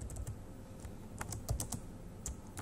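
Keys clatter in short irregular bursts as someone types a written reply on a computer keyboard, faint and close with steady room hiss underneath and no talking.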